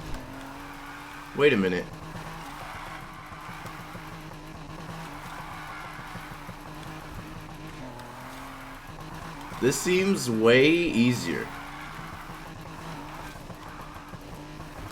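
A Volkswagen Beetle drift build with a droning engine under steady talk, broken by two bursts of tire squeal, a short one early and a longer, wavering screech near the end.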